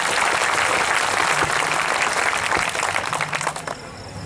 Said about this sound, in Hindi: आप एक बार समवेत स्वर में हमें तालियां बजा के आदेशित करें